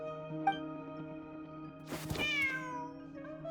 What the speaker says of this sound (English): There's a good kitty.